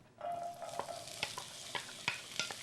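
Diced onion sizzles in olive oil in a pan, a soft crackle broken by a few sharp scrapes and stirs, close and quiet with no speech.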